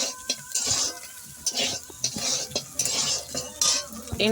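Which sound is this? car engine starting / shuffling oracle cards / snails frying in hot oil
snails frying in hot oil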